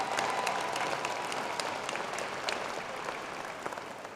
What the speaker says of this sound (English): please give them a warm round of applause for such a quick turnaround.